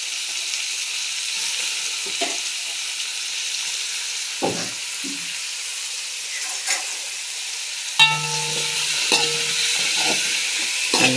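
Tomatoes and masala sautéing in a pan for a gravy, a steady hissing sizzle with several sharp spoon scrapes and stirs, busier clattering toward the end.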